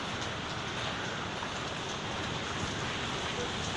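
Heavy rain pours steadily in a dense, unbroken hiss that stays level and close throughout, with no other sound standing out.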